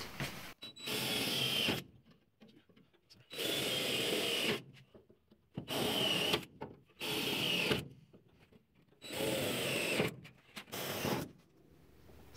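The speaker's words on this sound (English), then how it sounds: "Go ahead and get these holes drilled." A power drill bores holes in the radiator bar of a 1966 Ford Bronco under restoration, sounding in five or six loud, close bursts of a second or two each, separated by short quiet gaps.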